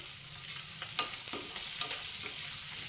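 Green chillies, onions and curry leaves frying in hot oil give a soft continuous sizzle, with a few light stirring scrapes and clicks close by, no voices.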